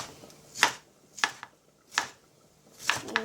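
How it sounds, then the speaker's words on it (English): A knife chopping onions on a cutting board, four crisp separate strikes spaced roughly evenly, close and clear in a quiet kitchen. "Let's chop this up."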